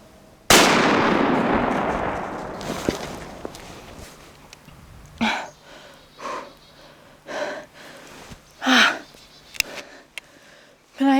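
A single loud muzzleloader rifle shot at a deer during a hunt cracks out near the start and rings off into a long fading tail, followed by hushed breathing and brief low murmurs.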